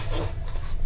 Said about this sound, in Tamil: இந்த பாதாமையும் அவல் பவுடரையும் நல்லா கலந்துப்போம்